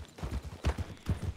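Horse hooves clip-clopping at a quick pace in the Western video game Red Dead Redemption (RedM roleplay server), a steady rhythmic series of soft, muffled thuds close by and fairly quiet.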